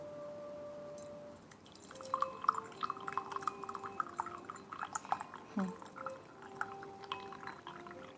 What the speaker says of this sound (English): Just pour tea into the teapot.